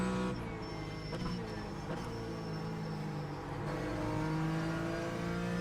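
A Porsche race car in the iRacing simulator, lapping the Nürburgring, holds a steady, droning engine note that climbs in pitch toward the end, a continuous mechanical whine with a faint voice briefly present.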